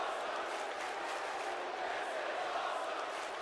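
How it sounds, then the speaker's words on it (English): A wrestling event crowd chants and roars in a steady, continuous wash of noise that sounds distant and muffled, with no clear single voice. "The crowd chanting, showing their approval of what they're watching"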